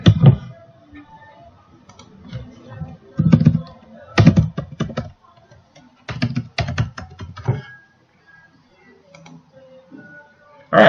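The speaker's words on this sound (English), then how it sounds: "I'm just gonna type here admin." Typing on a computer keyboard while setting up a WordPress site. Clusters of quick, close key clicks come in short bursts separated by pauses.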